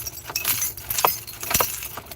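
Car keys jangling and clinking at the ignition of a broken-down Dodge Caravan, a few short metallic rattles spaced across a couple of seconds over a low background hum.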